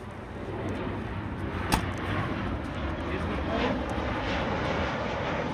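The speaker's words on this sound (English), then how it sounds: "Mickey Mouse plane." A steady engine drone from a small propeller plane fills the scene, constant and moderately loud, with no talking over it.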